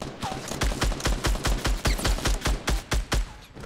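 A SCAR assault rifle fires in Fortnite Battle Royale as a loud, rapid, evenly spaced string of about a dozen close shots with no pauses.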